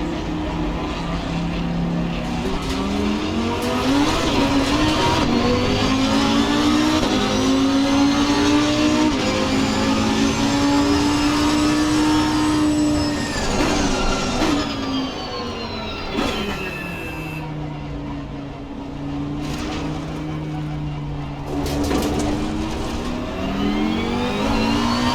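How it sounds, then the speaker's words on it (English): Lamborghini race car lapping in Assetto Corsa Competizione on low tire pressure, engine loud and continuous, climbing through revs, dropping on downshifts and rising again. "So let's do a few laps with the Lamborghini."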